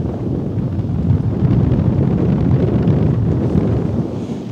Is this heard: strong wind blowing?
yes